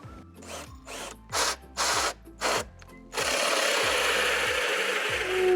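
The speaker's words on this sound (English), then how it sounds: "You're just gonna blindly drill a hole and not sure?" A power drill bores a hole into a shed wall, starting with several short, loud ratcheting bursts and then grinding on in one sustained, close run.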